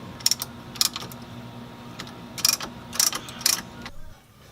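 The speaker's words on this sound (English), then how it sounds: "These pads or padlets need to be spread out, so I use a Lang caliper spreader." A Lang caliper spreader works the brake pads apart on a Corvette C6 Z06, producing several bursts of close, sharp ratcheting clicks in short clusters over a low steady hum that cuts off near the end.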